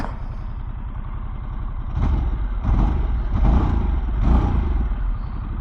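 A 2024 Harley-Davidson Sportster S engine rumbles close up during a ride, a deep pulsing throb that rises in several revving surges, loud with no voices.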